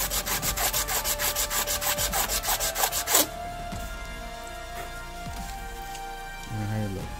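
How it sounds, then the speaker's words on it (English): Sandpaper rubbing back and forth over a bundle of wooden dowels being shaped into HO scale utility poles, a steady rasping rhythm close up for about three seconds, then quieter handling noises. "take the sandpaper, put the dowels down, and just sand them all at once"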